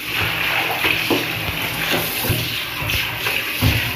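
Towel being washed by hand with soap in water, with steady wet sloshing and irregular soft splashes and rubbing, close and continuous without speech.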